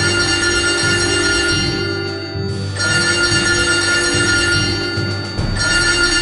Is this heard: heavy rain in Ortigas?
no